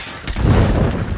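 Gunfire and booming blasts in the Call of Duty video game, a loud sustained rumbling burst of low-end explosions and shots with no talking.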